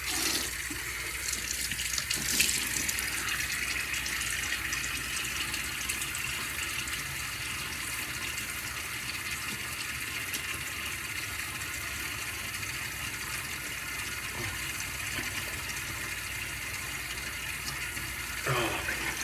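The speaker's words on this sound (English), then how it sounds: "let me get my face wet" Tap water runs steadily at a sink as a man wets his face before a shave with a Canvan razor, a continuous close hiss and splash lasting throughout with only brief bumps and no talk.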